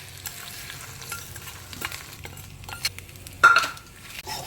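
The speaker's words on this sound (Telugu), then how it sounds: "దీని మీద ఈ వేడి పోపు వేయాలి." Hot tempering hits raw mango rice with a sharp sizzle, followed by stirring and scraping of a spoon against the pan, close and fairly loud.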